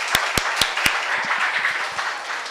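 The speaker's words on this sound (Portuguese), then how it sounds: "com uma salva de palmas para o Paulinho" A church audience applauds Paulinho, starting with four loud, evenly spaced claps up close, then thinning into scattered, quieter clapping from several people.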